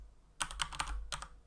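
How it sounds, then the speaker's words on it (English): Close, crisp keystrokes on a computer keyboard come in two quick runs of taps during coding work, with a short gap between them and a low background hum. "let's type in @import URL, and then let's type in"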